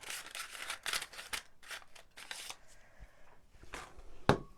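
A Stampin' Up! paper punch snaps once through card, a single sharp click near the end after a series of soft paper rustles and handling sounds, close and fairly quiet.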